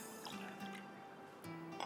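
One cup of water poured into a bowl holding two eggs for a three milk cake batter, a faint, quiet trickling and dripping that is steady and brief.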